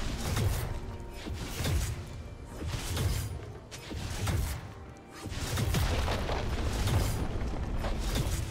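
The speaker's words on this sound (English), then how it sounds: "Red team's turret has been destroyed" A turret being destroyed in League of Legends, heard as a series of booming impacts and crashing mechanical thuds with whooshes, repeating in heavy pulses amid dense, busy game noise.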